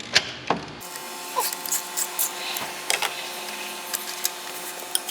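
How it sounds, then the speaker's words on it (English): A 1-inch socket on a long extension loosening the exhaust back pressure sensor on a 6.0L Powerstroke diesel engine, heard as a close run of sharp metallic clicks and ratcheting ticks spread irregularly through the clip. "It's a 1-inch socket on a long extension. Gets it off there pretty quick and easy."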